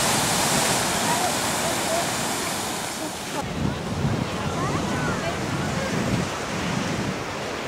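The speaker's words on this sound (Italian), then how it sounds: "Qua sull'Atlantico ci sono onde molto più forti" Atlantic Ocean waves roll onto a beach near Tarifa, a loud, continuous roar of surf with gusts of wind buffeting the microphone, then breaking in softer washes.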